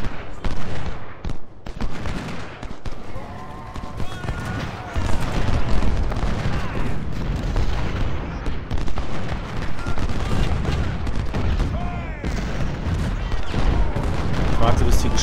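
Musket volleys and artillery fire from the Civil War strategy game Ultimate General: Civil War, dense and continuous crackling gunfire with heavy booms, loud throughout, with someone talking in German at times over the battle.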